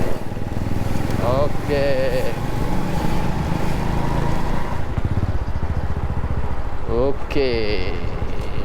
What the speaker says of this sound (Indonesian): nih kalian dengerin ya suara knalpotnya